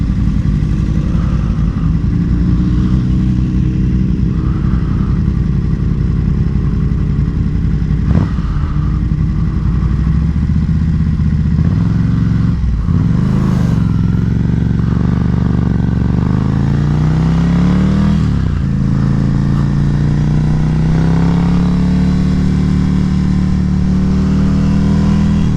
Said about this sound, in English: This is the way this bike should sound from the factory.